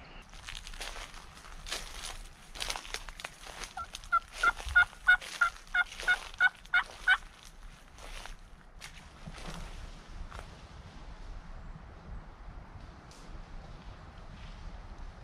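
A wild turkey gobbles once in a quick rattling burst in the distance, amid rustling footsteps and brush noise outdoors during spring turkey season.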